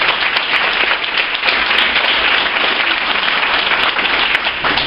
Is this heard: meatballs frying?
no